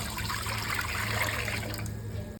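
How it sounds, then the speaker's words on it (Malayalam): Water pours into a cooking pot on the stove for chicken soup, a steady close splashing gush that runs continuously and tapers off at the end. "ഇനി ഇതിലേക്ക് ഒരു അഞ്ച് ഗ്ലാസ് വെള്ളമാണ് ഒഴിക്കുന്നത് കേട്ടോ"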